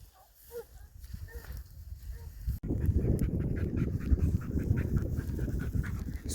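Hunting hounds bark faintly in the distance across river meadows against outdoor noise, with a rushing, rumbling background growing louder partway through.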